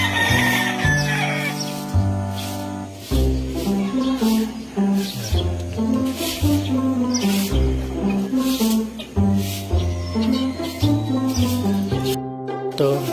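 Pet chickens, two hens and two roosters, cluck and call in a layered, close and fairly loud run of sounds, with pitched notes rising and falling and no speech.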